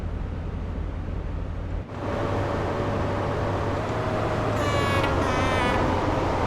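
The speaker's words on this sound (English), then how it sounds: "That's a weird sounding horn." A train horn in Train Sim World 4 on the Fife Circle line, sounding in two short harmonic blasts near the end over steady rumbling train noise, with an odd, unusual tone.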